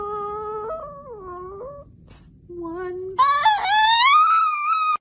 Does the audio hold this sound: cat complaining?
yes